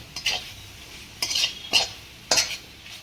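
A spoon stirs lauki and coconut ladoo batter in a pan, giving four distinct scraping strokes at uneven intervals against a quiet background, with no voices.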